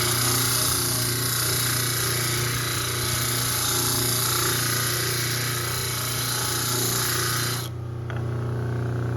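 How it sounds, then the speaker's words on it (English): A disc sander runs steadily with a dense, loud grinding whir while a grid is being cut, holding constant for about eight seconds before abruptly cutting off. "Turn off the disc sander."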